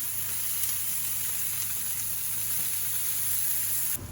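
Steaks sizzle steadily in browned butter in a pan, a close, continuous crackling hiss with no pauses, heard alone without talk.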